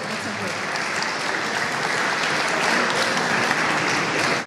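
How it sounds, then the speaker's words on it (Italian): An audience at the close of a conference in a hall, applauding the host. Dense, even clapping that holds steady and swells slightly near the end before stopping abruptly. "Un applauso alla conduttrice."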